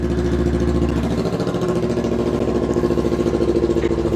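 A straight-piped Kawasaki Ninja 300 motorcycle engine roars loud and close with a continuous raspy drone that shifts pitch slightly midway, with no talking over it.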